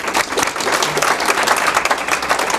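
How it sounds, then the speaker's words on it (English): Audience applause at a lunch-and-learn presentation, a loud, dense wash of many hands clapping that continues steadily from start to finish without speech. "Big round of applause for Patrick."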